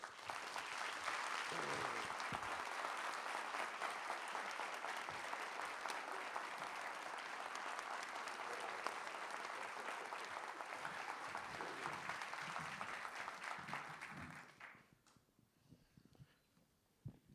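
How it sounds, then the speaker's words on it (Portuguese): Audience at an evening book talk and debate in Brasília breaks into sustained applause that holds steady for about fourteen seconds, then thins out to a few scattered claps. "Vamos recebê-lo com uma salva de palmas"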